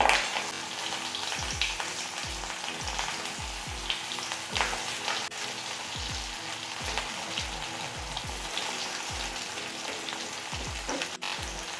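Whole bitter gourds frying in hot oil with mustard seeds and cumin, a continuous crackling sizzle dotted with rapid popping spatters, close and steady throughout.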